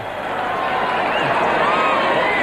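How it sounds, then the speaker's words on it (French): A crowd cheers and murmurs outdoors in Reims while watching the 1999 solar eclipse, a steady broad wash of voices with a few rising shouts, under a commentator's talk. "Écoutez la foule"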